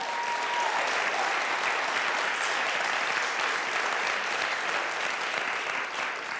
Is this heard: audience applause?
yes